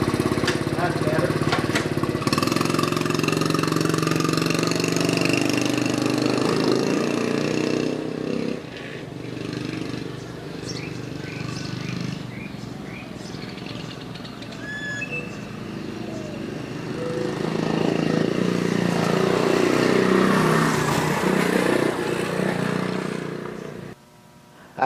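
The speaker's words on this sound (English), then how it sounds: "I was happy that the engine ran good today" A Honda CT70 motorbike's small engine putters close by for about twenty-five seconds, running steadily with rises and dips as it is ridden around, then stopping abruptly at the end; speech is faintly mixed in.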